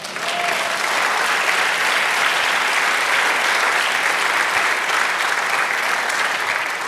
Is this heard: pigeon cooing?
no